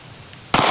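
One sharp, loud report from a 9mm pistol firing 115 grain Fiocchi rounds, preceded by a faint click.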